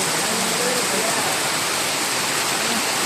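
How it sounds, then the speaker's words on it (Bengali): Dense, steady roar of heavy rain pouring down in a village, a constant broadband hiss without breaks, loud and close. "আইরে বৃষ্টির অবস্থা দেখছেন"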